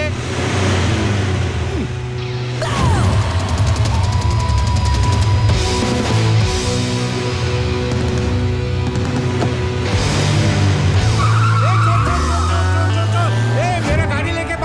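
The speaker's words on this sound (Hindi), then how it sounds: "मेरा गाड़ी लेके भागा।" A red car tearing away in a Bollywood movie scene, its engine revving with squealing tire tones. Vehicle noise runs loud throughout, mixed with music and other effects, while voices talk over it.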